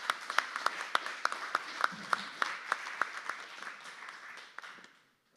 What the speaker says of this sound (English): please give our panelists a round of applause for their great job.